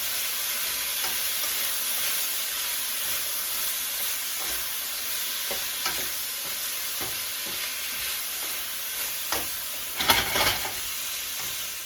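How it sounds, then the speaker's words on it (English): Vegetables with garlic and pepper sautéing in a pan for pepper steak, a steady bright sizzle and hiss with occasional stirring scrapes, a louder burst of sizzling near the end; no talking. "once you have your vegetables sauteed to your liking"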